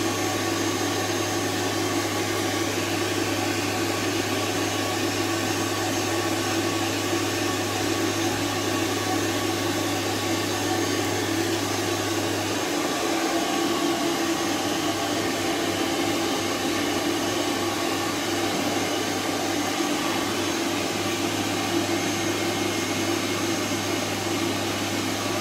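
A hair dryer blows steadily on a Coton dog after its bath, a loud, constant whooshing roar that holds unbroken throughout, with a low hum that changes partway through as the airflow shifts.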